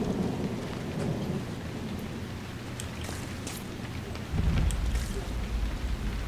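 Steady rain with rolling thunder in the video game Dragon Age Inquisition, a dense wash of downpour that swells louder near the end, with no talking.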